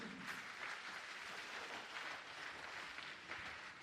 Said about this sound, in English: Please clap more for him.